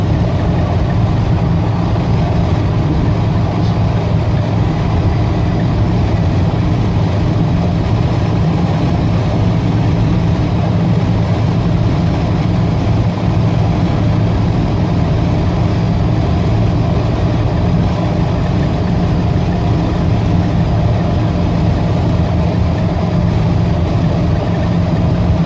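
Vehicle cruising steadily while towing an old, ratty car trailer, giving a continuous low engine and road drone with no pauses.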